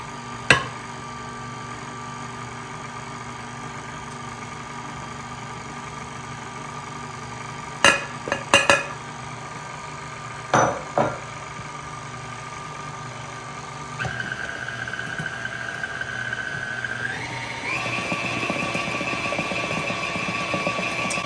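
An electric mixer whirs steadily through pumpkin roll batter, starting as a low hum with a few sharp knocks against the bowl, then rising in pitch and loudness as the speed steps up in the final seconds.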